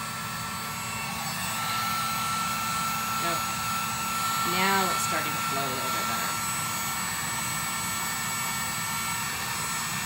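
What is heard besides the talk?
heat gun blowing on epoxy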